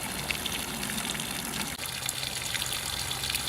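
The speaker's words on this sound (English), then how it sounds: "Amazing how much water is in that line, stored just in the line itself." Water gushes steadily from an open line being blown out with air pressure, a loud continuous rushing outflow with no pauses, close to the source.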